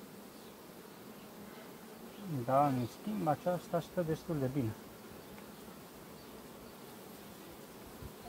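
Honeybees hum at an opened hive of a colony whose queen may need replacing, a faint steady buzz running underneath while someone speaks briefly in the middle.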